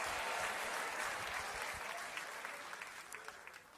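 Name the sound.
congregation clapping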